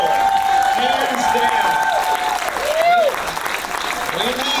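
An audience breaks into loud applause with scattered cheers and whistles, dense clapping filling the room while voices shout over it.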